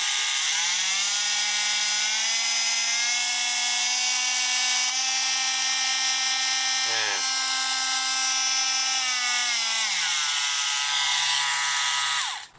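An IMAX IMT-12V multitool is switched on and runs close up with a loud, steady high-pitched motor whine that holds for about ten seconds, with a brief click partway through, then winds down in pitch before stopping.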